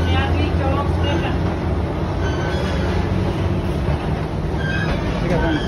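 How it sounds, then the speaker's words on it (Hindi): A Lahore metro bus rumbles steadily with faint metallic squeals as it arrives, heard up close at a station with a constant low drone. "सामने आ चुकी है मेट्रो, ये देख लें इतनी बड़ी बस है मेट्रो की"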